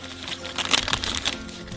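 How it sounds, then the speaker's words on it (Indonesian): A butter package is opened in a kitchen, giving a brief close burst of crisp wrapper crinkling and rustling lasting under two seconds. "Buka kemasan mentega"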